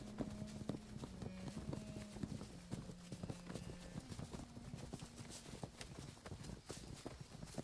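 Horse hooves clatter in quick irregular clip-clop beats, moderately close, over a low background hum, with no clear speech.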